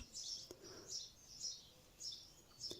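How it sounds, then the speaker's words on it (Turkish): Small birds chirp outdoors in short, repeated high tweets spaced about half a second apart, faint and distant against quiet background. "umarım kuş sesleri de size geliyordur"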